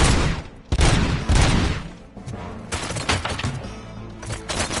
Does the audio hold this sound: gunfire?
yes